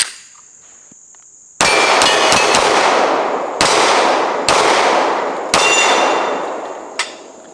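Sig P320 XTEN 10mm pistol shots ringing off steel targets about 15 yards away: five or six sharp, loud impacts in an uneven string, each followed by a metallic clang that decays, with a faint high hum between shots.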